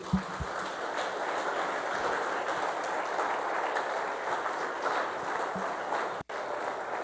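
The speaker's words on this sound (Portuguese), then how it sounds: "Dê um aplauso ao Senhor" A church congregation claps together during a worship service, a soft, even wash of many hands that sounds somewhat distant and holds steady for several seconds, with one brief dropout near the end.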